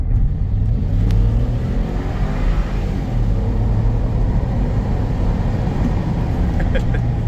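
A Range Rover Sport accelerates hard, its engine a loud, steady low roar with continuous rumbling road and wind noise close by and no clear pause throughout.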